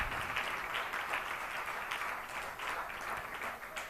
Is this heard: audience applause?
yes